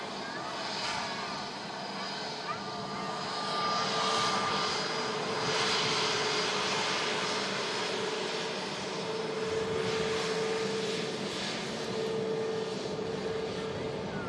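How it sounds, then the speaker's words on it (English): A Scandinavian Airlines Airbus A320neo jet gives a steady, moderately distant engine roar that rises and falls gently, with faint background voices at a plane-spotting spot. "This is an Airbus A320 Neo, Scandinavian Airlines."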